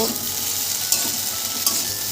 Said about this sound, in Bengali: এবার ঢ্যাঁড়সটা রসুন আর পেঁয়াজের সাথে একটু ভাজা ভাজা করে নেব।